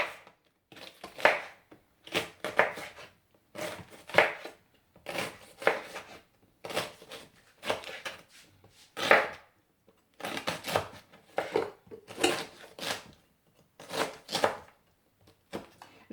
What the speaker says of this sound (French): Je coupe le fenouil.